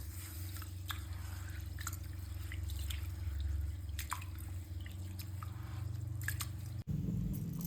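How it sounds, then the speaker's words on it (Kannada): Rice and moong dal being washed in water for sweet pongal: quiet, scattered drips and soft wet squishes at an uneven rhythm, close and faint, with no talking. "ಇವಾಗ ನೀರು ಹಾಕೋದನ್ನೆಲ್ಲ ಚೆನ್ನಾಗಿ ವಾಶ್ ಮಾಡ್ಕೊತೀನಿ."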